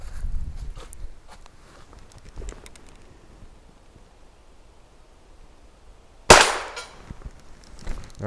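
A single sharp, loud gunshot from a Henry Mare's Leg short-barreled lever gun with a 16-inch barrel rings out once outdoors, following quiet footsteps and light movement, with a faint thump near the end.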